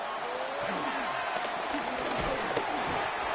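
Stadium crowd at an NFL Buffalo Bills American football game roars steadily on third down, a dense sustained wash of cheering and noise from thousands of fans with no break.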